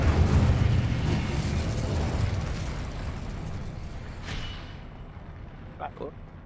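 An Incendio fire spell is cast in Hogwarts Legacy, a loud roaring burst of flame that swells and then slowly fades, followed by a few small sharp pops near the end.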